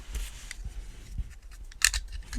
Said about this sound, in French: Le gros cutter, ça va mieux pour découper au milieu et après on peut mieux déchirer.